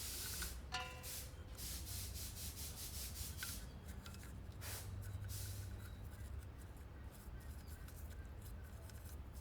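Faint, steady scrubbing and rubbing inside an intake pipe from a Bolero engine during cleaning, a continuous gritty friction sound with small irregular scrapes and no talk.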